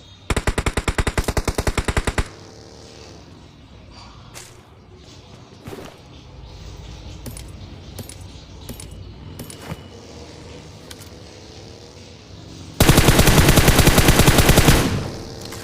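Loud rapid automatic gunfire bursts from a battle royale video game firefight, with a long burst at the start and another near the end, separated by quieter scattered shots and game ambience.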